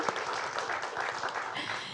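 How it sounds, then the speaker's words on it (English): A crowd applauding steadily, a dense wash of many hands clapping at moderate volume throughout. "If everybody could give Diego a round of applause"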